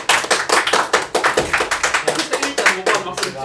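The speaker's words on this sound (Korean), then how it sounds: "우리 박수 한번 쳐주자" A classroom of students claps in a rapid, uneven burst of hand claps for about three and a half seconds, loud and close, with voices mixed in.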